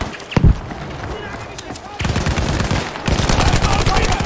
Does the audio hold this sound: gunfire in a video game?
yes